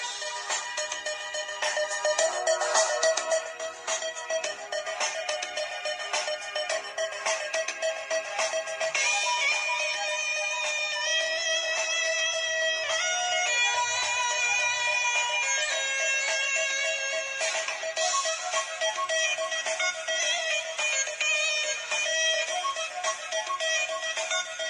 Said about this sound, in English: Same ringtone as my LG NV3